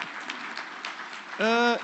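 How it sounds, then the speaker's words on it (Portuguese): Audience applause for an event sponsor at a tech conference panel on open source, data and business, a soft even patter of many hands that gives way at the end to a brief sustained voiced tone. "eu vou pedir um aplauso aí para a CTL por ter patrocinado o nosso evento"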